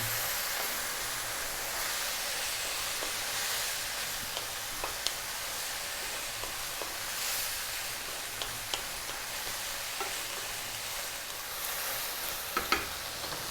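Chicken fried rice sizzles steadily as it is stir-fried over high heat in a pan, a constant hissing fry with occasional sharp clicks and scrapes of stirring, no talking.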